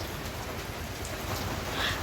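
Steady rain falls over ripening rice fields in October, a dense, even hiss that runs unbroken from start to finish with no voices.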